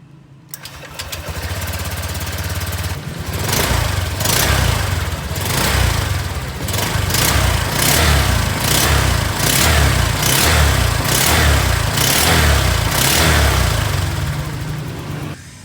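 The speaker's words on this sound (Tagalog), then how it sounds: "Sound check muna natin mga boss habang stock pa yung radiator fan natin, no? So tara, paandarin natin yung motor natin." A Honda Click 125 motorcycle engine with stock radiator fan cranks and catches, then runs steadily at close range, its idle rising and falling in a loud, rhythmic pulse with no talking.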